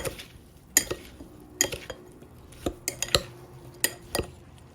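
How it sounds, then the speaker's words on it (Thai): Sour fruit salad with pla ra fish sauce being tossed in a bowl, sharp irregular clinks and knocks of a utensil against the dish, scattered across a few quiet seconds. "มาเลยคลุกคลุกคลุกเขาให้เข้ากันค่ะ"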